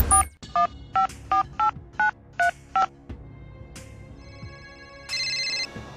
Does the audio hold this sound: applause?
no